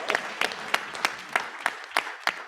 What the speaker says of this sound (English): A round of applause to my panel